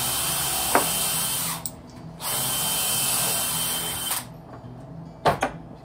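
A power drill drives screws into a glued, clamped face frame on a DIY barn-style door, running in three loud, steady bursts with short pauses and clicks between them.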